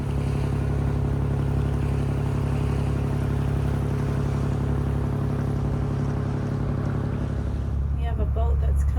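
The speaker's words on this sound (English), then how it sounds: "We have a boat that's coming full speed at us on our port side" A motorboat closes in at full speed off the port side on clear water near Vancouver Island, its loud, steady engine roar and hull rumble filling the scene, with wind and water noise building at the end.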